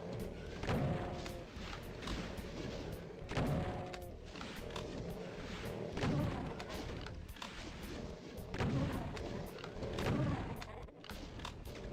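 Shotgun fire in the video game Doom II: several punchy blasts spaced a couple of seconds apart, mixed with game noise and occasional speech.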